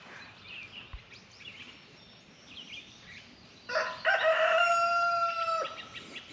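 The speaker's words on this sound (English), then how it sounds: "He's just a big old rooster." A rooster crows loudly nearby, one long drawn-out call after some quieter clucking and background bird sounds.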